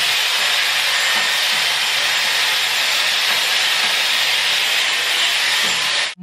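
An air blower hisses in a steady, loud rush for several seconds, then cuts off abruptly.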